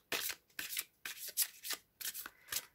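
Oracle cards being shuffled by hand in about six quick riffling bursts, crisp papery rustles separated by brief pauses, close and fairly quiet with no talking.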